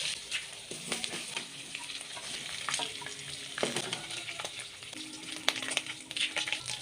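Pork pieces being stirred and fried in oil in a pan for pork kilayin, a soft continuous sizzle punctuated by repeated scraping and clinking of a utensil against the pan, close but moderately quiet, no voices.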